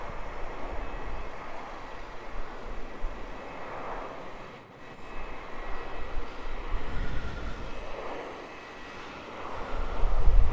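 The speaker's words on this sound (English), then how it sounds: "Qantas 35 airborne heading for Singapore" Qantas flight 35 takes off from Melbourne Airport bound for Singapore, a steady, distant jet roar that dips briefly midway and then swells louder toward the end.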